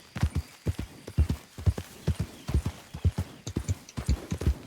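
Hooves of a horse in Red Dead Redemption 2 clip-clop at a steady walking pace, close and clear, with a brief whinny near the end.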